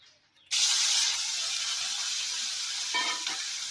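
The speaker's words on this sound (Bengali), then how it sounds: "ওদিকে আমি এখন বেগুনটা ভাজবো" Loud oil sizzle bursts in suddenly and holds steady, a close, bright hiss of eggplant frying in oil, with a faint clatter near the end.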